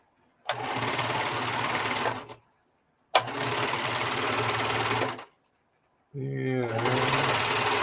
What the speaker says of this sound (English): So I need to get my serger going again.